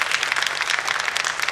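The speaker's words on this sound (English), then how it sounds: "ladies and gentlemen, a big round of applause for" A brief burst of loud, dense audience applause at an evening music event, many hands clapping steadily with no voices over it.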